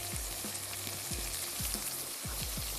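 Cumin seeds frying in a pan, a dense steady crackling sizzle running throughout, with a low rhythmic mechanical hum and thumps underneath; no voices.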